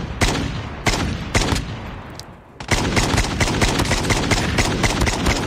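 Rapid bursts of gunfire in the video game Call of Duty Mobile, loud repeated automatic shots with a short lull midway, then a dense continuous volley, no talk.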